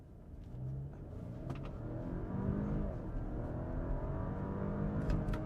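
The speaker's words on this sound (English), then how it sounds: "let's go ahead and do a quick launch from a stop in first gear" A 2024 Porsche Cayenne in Sport Plus launches from a stop in first gear, its engine note rising steadily in a smooth, building rev heard from inside the cabin, fairly muted.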